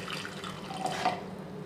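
Water is poured into a mixer jar for muskmelon seed juice, a brief soft trickle heard alone.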